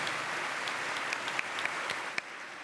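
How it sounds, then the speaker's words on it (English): A conference audience at an Internet Governance Forum workshop claps steadily for the speakers, a dense, even wash of applause with a few sharper individual claps standing out near the end. "Please give a round of applause once again to the speakers."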